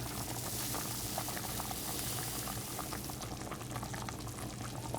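Yellow rice goes into a bubbling pot of chicken bog, and the boiling liquid keeps up a steady, close, dense churn and gurgle with no talk over it.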